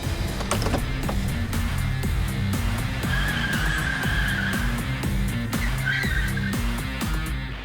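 A car arrives on a wide, empty runway on a sunny day, its engine droning steadily and loud throughout, with brief tyre squeals and mechanical whirs layered over the constant roar.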